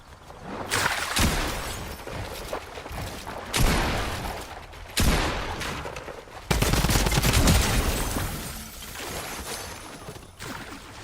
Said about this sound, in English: Where are these bots shooting?